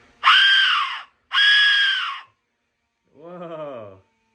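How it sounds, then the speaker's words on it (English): Two loud, shrill screeching blasts of a whistle, like a ghostly scream, followed by a lower wavering wail, each separated by silence. "Ooh, that's a scary noise. It's like a ghostly scream."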